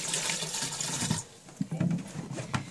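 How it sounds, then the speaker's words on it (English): Water poured into the reservoir of a Statim sterilizer, a steady close splashing stream that stops partway, followed by a few light clunks. "I probably should add just a tiny bit more water."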